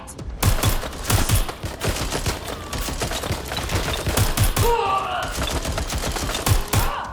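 Rapid bursts of gunfire in the Watch Dogs: Legion game, loud and close, with sharp repeated shots in quick clusters across the whole stretch and brief shouted voices mixed in.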